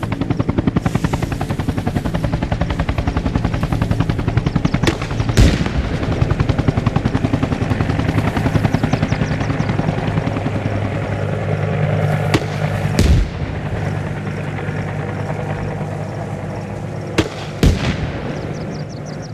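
Gunfire in the military shooter game Arma Reforger, scattered sharp reports and a few heavier cracks over a constant droning helicopter rotor, loud and busy throughout.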